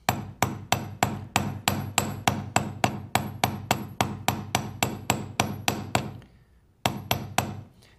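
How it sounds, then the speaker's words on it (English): A round-faced forming hammer strikes a metal earring on a steel block set on a leather pad, ringing out in a steady run of about twenty sharp metallic blows, close and loud, with a brief pause before the hammering resumes. "we're going to start with a hammer. It's a forming hammer that has a round side and a flat side."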